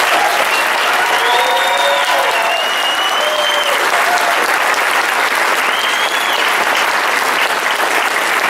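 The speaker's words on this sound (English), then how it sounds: "Let's take a moment to give all three candidates a big round of applause." An audience at a candidate forum in Cameron Park applauds three candidates, a loud, dense, sustained round of clapping filling the room with a few whistles or cheers mixed in, and no speech over it.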